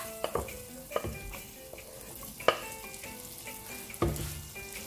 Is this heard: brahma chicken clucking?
no